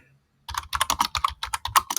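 Someone types on a computer keyboard, a quick, close run of crisp key clicks after a brief silence, with no talking.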